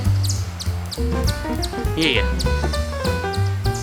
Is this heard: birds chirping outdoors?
yes